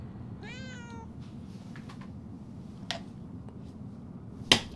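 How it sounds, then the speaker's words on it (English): A cat in the video game Murdered: Soul Suspect gives one clear rising meow near the start over a steady low game ambience, followed by a few faint clicks and a sharp snap-like tick near the end. "I realized I can possess this cat"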